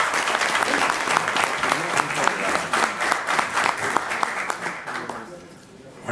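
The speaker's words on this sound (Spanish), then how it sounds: "lo recibimos con un fuerte aplauso" A conference audience gives a lecture speaker a warm round of applause, dense, even clapping that fills the room for about five seconds and then fades out.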